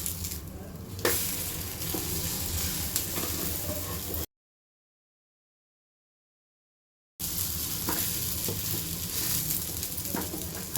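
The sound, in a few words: suji toast frying in oil on a pan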